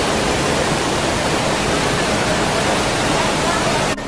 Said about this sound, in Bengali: This is the Kanchenjunga waterfalls. আর পুরো নিচে পর্যন্ত জল বয়ে চলেছে।